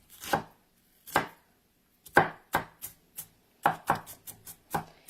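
A knife chops onion on a cutting board in sharp, irregular strokes, single cuts at first and then quicker clusters, close and clear with silence between.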